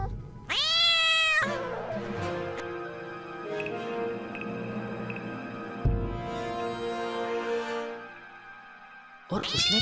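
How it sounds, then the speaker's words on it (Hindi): A cat meows loudly in a rising, drawn-out wail, then a low tonal hum drones on before a second sharp meow bursts in at the end, with no talk over it. "बिल्ली की आवाज घर से ही आ रही थी।"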